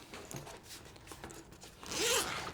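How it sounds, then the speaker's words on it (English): Zipper on the outer compartment of a toiletry bag pulled open in one quick rasping stroke near the end, close and fairly quiet, preceded by soft handling rustles. "if I open up this outer compartment and all their little zipper compartments"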